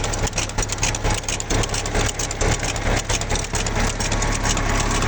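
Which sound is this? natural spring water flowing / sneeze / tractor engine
tractor engine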